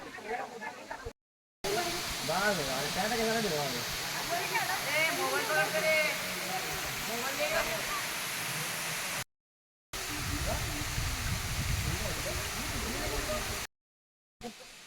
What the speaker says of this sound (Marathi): थोडासा इथं पाण्याचा प्रवाह आपल्याला दिसतोय मार्लेश्वरच्या धबधब्यामध्ये